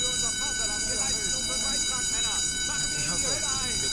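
A battle stations alarm aboard a submarine in the UBOAT video game repeats in steady pulses, moderately loud, over a constant electronic hum with rumbling in the background.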